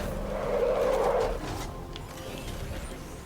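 The Batmobile in Batman: Arkham Knight revs and slides, a loud low engine roar with a tire skid that swells, then fades into a lower rumble with faint mechanical clanks.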